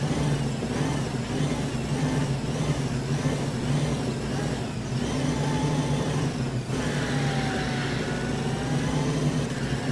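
A car engine in LittleBigPlanet 3 roars steadily on a quarter-mile run, with a droning mid-pitched tone and rising revs that shift in pitch across the run, loud and continuous with no voices.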